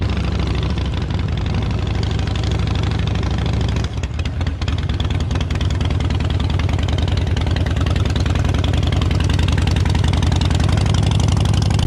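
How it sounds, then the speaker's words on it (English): A motorcycle engine runs loud and close in a steady, even throb while the clutch is eased out and the bike is walked along slowly, with a brief dip partway through and no talking. "Just slowly release the clutch and you're just walking with the bike, which I'll probably insert a clip of now."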